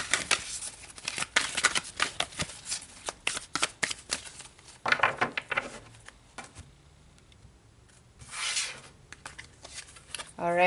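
Tarot cards being shuffled up close, rapid papery riffles and slaps in bursts with brief pauses, under a person talking.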